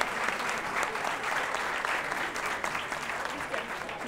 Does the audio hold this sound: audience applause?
yes